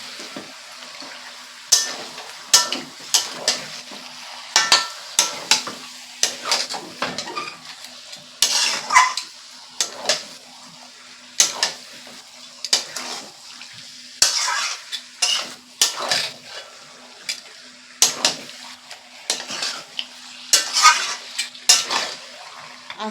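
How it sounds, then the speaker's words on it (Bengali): Potatoes stir-fried together with desi chicken in a pan, village style: repeated sharp scrapes and clatters of a spatula against the pan at an irregular rhythm over a low sizzle, close and fairly loud with no talking. "কষিয়ে নিচ্ছি আলুটাকে"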